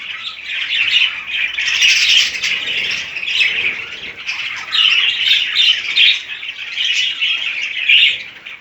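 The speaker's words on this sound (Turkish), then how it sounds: "Benim kuşlar böyle." Budgerigars squawk and chirp continuously, close and busy, with overlapping shrill calls rising and falling in bursts.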